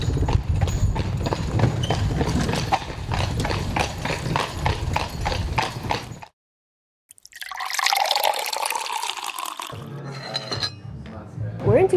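Horse hooves clip-clop steadily on city pavement as a calèche carriage is pulled along, with a brief gap of silence midway and traffic and voices nearby.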